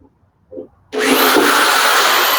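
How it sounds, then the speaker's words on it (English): After a short quiet and a brief thump, a power drill kicks in and grinds steadily through a drywall anchor, drilling a pilot hole, loud and continuous to the end. "you're going to essentially drill a pilot hole into your first anchor"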